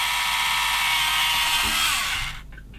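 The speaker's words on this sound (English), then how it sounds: "Just let the drill do the work, I don't push too hard on this." A loud, steady whine of an electric drill running continuously while drilling track grousers for a 1/16 scale M10 Achilles tank model, then winding down and stopping near the end.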